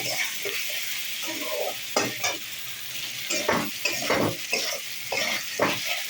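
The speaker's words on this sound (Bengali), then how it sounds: "পেঁয়াজটা দিয়ে একটু ভাজা ভাজা করে" Onion frying in a pan, a continuous close sizzle broken by repeated stirring scrapes and spatula knocks at an irregular rhythm, with no voices.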